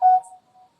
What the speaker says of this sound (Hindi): कोई फोन रखा था क्या वहां?